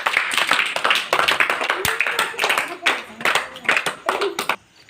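Children at a home tuition class clap their hands in a quick, uneven burst of applause that fades out near the end, with a voice heard among the claps.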